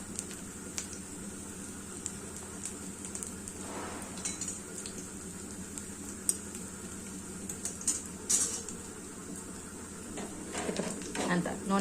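Boiled sweet potato cutlets sizzle steadily in hot oil in a pan, with occasional stirring and utensil clinks, near and continuous throughout.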